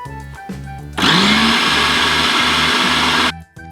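A mixer grinder jar with water whirs into a loud, steady motor roar after a short buildup, holds for about two seconds, then cuts off abruptly, close and dominant over faint background music.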